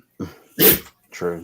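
A dog in a room gives three short, sharp snorting sneezes, loud and close, separated by brief pauses, with a voice speaking briefly.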